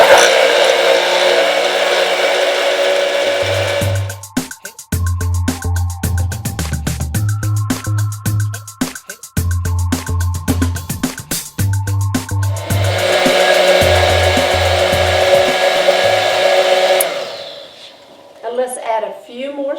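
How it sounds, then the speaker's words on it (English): A blender loudly whirs through rosé, strawberries and ice for frosé, the motor surging in long bursts with brief pauses and grinding changes as the ice breaks down. "as we blend this in the blender"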